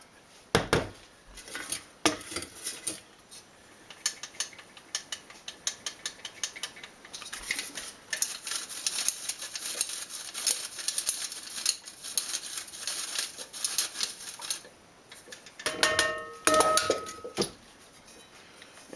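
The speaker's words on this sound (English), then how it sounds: "what I'm going to do now is put it through a sifter" Ground red clover shaken through a metal sifter, giving continuous rapid rattling and scraping with metallic clinks, a busier clattering burst near the end.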